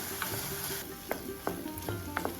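Snake gourd seeds roasting in ghee for chutney, a dense bright sizzle close up, punctuated by a few sharp spoon taps and scrapes against the pan.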